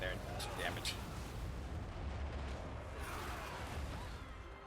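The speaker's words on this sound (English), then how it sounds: "I made sure that he did an explosion ability right in the center, because I want to make sure that I disrupt the formations." A large fantasy battle rumbles with a dense, continuous roar of explosive blasts and artillery-like booms as a general's explosion ability strikes the centre of enemy formations, Exalted Bloodthirster against Grand Cathay, loud and sustained throughout.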